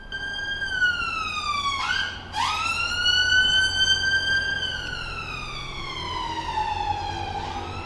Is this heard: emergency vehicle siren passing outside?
yes